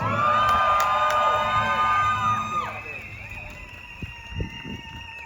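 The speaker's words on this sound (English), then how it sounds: "let's give her a big round of applause" A street rally crowd roars with cheers and high whoops, loud and sustained, then the shouting drops away and a few voices and scattered claps linger near the end.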